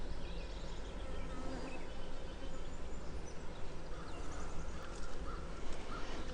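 A dense, continuous hum of many honey bees swarms around an open hive during a week-two inspection, steady and close throughout.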